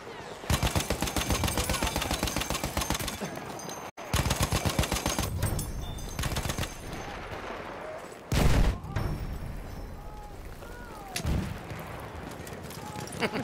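Rapid machine gun bursts crackle through a video game battle with an enemy scout trooper, dense repeated volleys with brief pauses and heavier blasts near the middle, loud and close.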